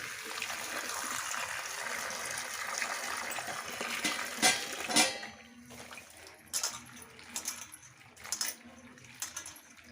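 Pigeon pea pods being rinsed in water, with splashing and trickling throughout, a few sharper sloshes and clinks in the second half, close and moderately loud with no talk.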